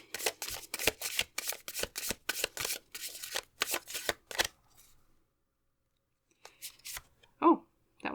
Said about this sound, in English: So let's start drawing the cards for that.